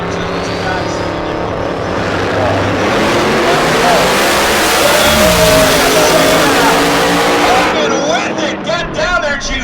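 A drag race car accelerates down the track with a loud, sustained engine roar that rises in pitch and then trails off near the end, while a commentator talks over it.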